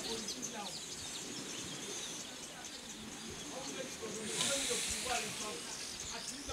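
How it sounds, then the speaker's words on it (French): Birds chirp and call on Mamboumba island, many small, faint voices over a hissy outdoor background, with a brief louder swell partway through. "Rien que le bruit des oiseaux vous transporte"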